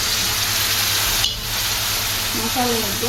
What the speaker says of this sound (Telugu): జ్యూస్ చేసి ఈ దీంట్లో పోయాలి